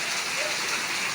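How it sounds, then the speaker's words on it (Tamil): A brief, dense burst of heavy rain in Tiruppur, a loud, even hiss of water pouring onto surfaces with no pauses. "பாருங்க தண்ணி போகுது பாருங்க."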